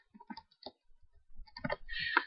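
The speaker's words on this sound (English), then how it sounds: "So you just double click on there." Short mouse clicks on a computer while editing in Corel VideoStudio Pro X5, sparse and close, with some soft handling noise around them.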